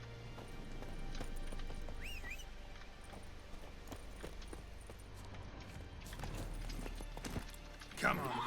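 Roach the horse gallops in a video game, a steady patter of hoofbeats running under ambient game sound, with a brief whinny-like squeal and a sharper clatter near the end.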